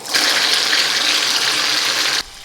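Parkside PRP 400 B1 barrel pump pushing a steady, loud gush of water for about two seconds, the hissing stream cutting off abruptly when switched off, with no voices.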